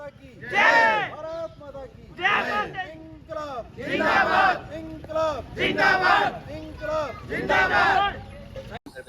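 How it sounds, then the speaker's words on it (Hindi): A crowd at a tribute event for Bhagat Singh shouts slogans in unison: six loud, rhythmic bursts of massed voices separated by short pauses, with a lead call and a group response. "नारों के द्वारा युवा शक्ति को जागृत किया"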